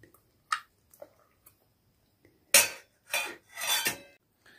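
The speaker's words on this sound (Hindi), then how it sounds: "तो ये लोग भी खा रहे हैं खाना" Family lunch at home in a Himalayan village, dal and home-cooked food on plates; scattered soft clinks and scrapes of utensils on dishes, then three louder clatters close by, no talking.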